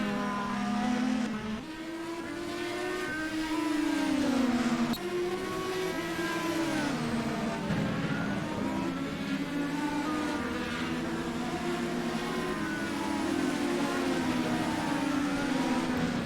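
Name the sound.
Indy race cars passing on track in racing video game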